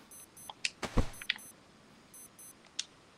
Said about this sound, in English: I got the beep of death.